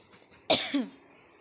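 One short, sharp cough, close by, with quiet before and after.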